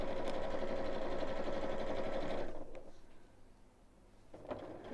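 A sewing machine winding a bobbin runs with a fast, steady mechanical whir for about two and a half seconds, then stops, leaving faint clicks and handling sounds.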